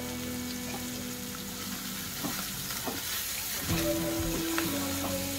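Bitter gourd frying in hot oil gives a steady, close sizzle with occasional stirring clatter and scraping, continuous throughout and with no one talking.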